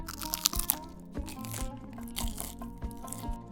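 Crisp bites into crunchy fried Moroccan almond briouates, close-up crackling and crunching with sharp snaps and rustling flaky pastry, repeated irregularly throughout with no talking.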